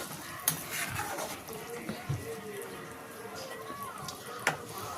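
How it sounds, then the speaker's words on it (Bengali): Fish curry with kohlrabi and potato being stirred in a pot, soft scraping and a light simmering bubble with a couple of sharp utensil knocks, under steady talking close by. "একবার নেড়ে দিচ্ছি"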